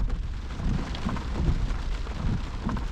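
Steady rain drums on the roof and windscreen of a parked Vauxhall Cavalier in London, a dense, continuous patter heard from inside the car.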